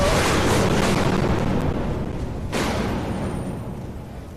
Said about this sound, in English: Someone's throwing a grenade.